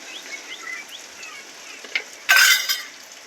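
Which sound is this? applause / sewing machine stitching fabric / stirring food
stirring food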